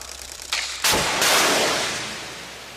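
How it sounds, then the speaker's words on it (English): A Raybolt anti-tank guided missile launches from the roof of a K-153C 4x4 armored vehicle with a sharp, loud blast followed by a roaring rush that slowly fades over a couple of seconds. "The Raybolt anti-tank guided missile, now in service with the South Korean Armed Forces, mounted on the roof of the K-153C 4x4 armored vehicle."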